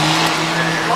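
A truck at the GDSF 2022 truck show revs its engine hard while spinning its wheels, giving a loud, continuous roar with a steady drone through the whole short burst.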